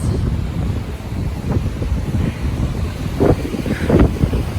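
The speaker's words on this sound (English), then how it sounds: "it is really windy right now and definitely cold" Strong, cold wind near Takakkaw Falls and Emerald Lake in British Columbia buffets the microphone in a constant low roar, with gusts swelling louder toward the end.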